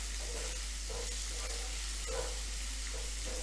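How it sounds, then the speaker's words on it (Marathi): Whole masoor lentils, soaked for hours, are sautéed in a pan for pulao, giving a soft continuous sizzle with occasional scraping stir strokes, close and moderately quiet, with no talking. "आता ह्यामध्ये मसूर घालायचा जो आपला भिजवलेला आहे आपण कमीत कमी पाच ते सात तास हा मिज मसूर भिजला पाहिजे चांगलं परतून घ्यायचं आहे"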